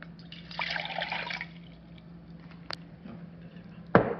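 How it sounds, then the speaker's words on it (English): Water is poured from a small container into a camping stove pot, a short soft trickle early on followed by faint clinks and a sharper knock of metal at the end, quiet with no talking. "So I'm going to pour my water"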